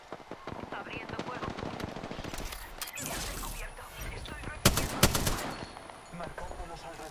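Gunfire in the video game Apex Legends, bursts of rapid automatic shots and single cracks layered under game sounds and voices, louder impacts near the end.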